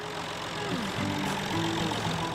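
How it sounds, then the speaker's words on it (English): Tractor engines run steadily on a strawberry farm in Bealsville along a rural state road, a low continuous mechanical drone with rising and falling tonal lines, constant loudness, no voices. "Follow the sounds of the tractors"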